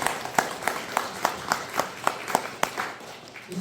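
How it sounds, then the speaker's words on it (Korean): An audience at a church gathering claps steadily, with evenly spaced, fairly crisp claps that come across as moderately loud, while a low murmur runs underneath. "박수를 좀 쳐주시면 고맙겠습니다."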